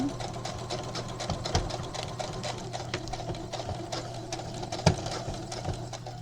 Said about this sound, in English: And we're just going to sew right to the very end.